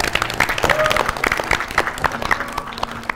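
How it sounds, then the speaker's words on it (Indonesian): Audience applause on the stage of TWK, the campus general-knowledge quiz show final, as a team leaves; dense steady clapping fills the clip, with a presenter's voice and crowd noise mixed in. "Tepuk tangan dulu untuk mereka."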